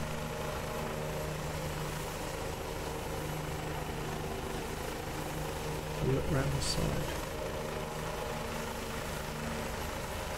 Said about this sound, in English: Love that helicopter.